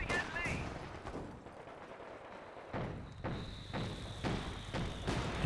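A Company of Heroes 2 mortar pit barrage booms as a series of evenly spaced battlefield thuds and blasts, roughly one every half second, under a commentator's voice and background combat noise.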